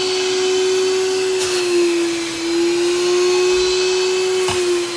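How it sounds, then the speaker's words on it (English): A VacMaster two-stage shop vacuum motor runs steadily at close range during upholstery cleaning, a constant high whine over a broad airy rush, with no talking. "We are using the VacMaster. It's got a dual stage, 2-stage vacuum in it."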